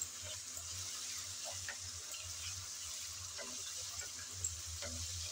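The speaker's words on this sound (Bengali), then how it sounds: "আদা রসুন পেঁয়াজের সাথে হালকা করে ভেজে নেব যাতে কাঁচা গন্ধটা চলে যায়" Ginger and garlic paste frying with onion in a pan, a soft steady sizzle with scraping stirring strokes repeating in a loose rhythm, close and fairly quiet, no voices.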